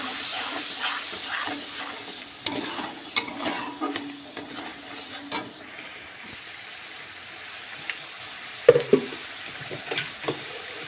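A pan of frying food with turmeric added is stirred with soft scraping strokes over a faint, steady sizzle, followed by a few sharper clatters near the end.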